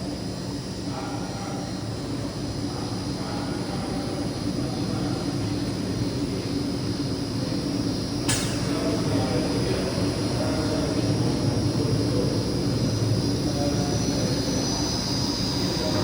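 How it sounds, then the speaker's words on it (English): Neptune Benson Defender regenerative media filter pump restarting after the media change cycle, a steady broadband mechanical roar with constant hum and whine that holds level throughout, near and continuous, with a brief click partway through. "you can hear the pump pick back up"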